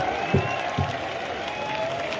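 A large crowd at a community mahapanchayat in Pushkar claps over a steady hum of loudspeaker feedback, the applause sounding thin and distant, with a couple of low thumps near the start.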